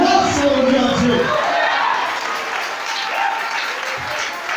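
A church congregation applauds and cheers in a dense, sustained wave of clapping with voices mixed in, slowly thinning toward the end.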